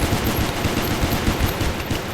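An L6 saw machine gun firing in the video game Space Station 14, a dense continuous burst of rapid loud shots with no pauses.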